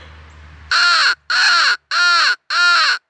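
Crows caw in a field, four loud, harsh calls in an even rhythm, each about half a second long with short gaps between, close and clear over a quiet background.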